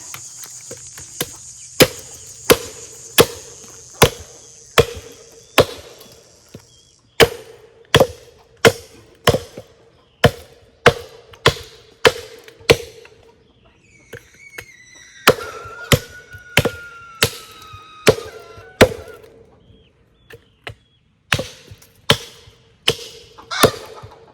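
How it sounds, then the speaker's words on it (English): A wooden wedge is hammered into a log to split it outdoors, ringing out in a steady run of sharp, loud strikes, with short pauses between groups and a faint whistle-like tone in the middle stretch. "Let's make a wedge and hammer it."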